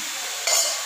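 Chopped capsicum and soaked frozen peas drop into a hot pan of frying veg biryani, and a short burst of sizzling hiss rises above the steady background frying.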